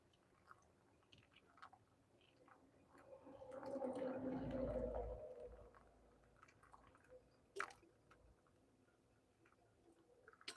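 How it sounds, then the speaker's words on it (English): Hot water poured from a kettle into a gourd of mate, a soft gurgling trickle swelling in the middle then fading, quiet and close, with a few faint clicks around it. "I'm pouring the water for the mate."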